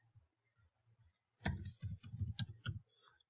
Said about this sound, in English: let's type it